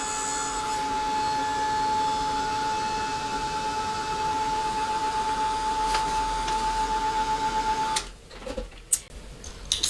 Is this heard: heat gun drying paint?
yes